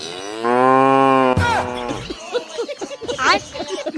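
A bullock gives one loud, drawn-out moo close by, then people talk right after it.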